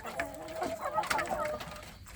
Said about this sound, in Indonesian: Saya memberi makan sedulur anak ayam kampung saya